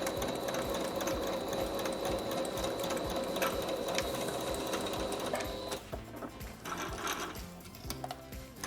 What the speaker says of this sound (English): So I'm just gonna go ahead and put a stitch in the ditch on one side seam.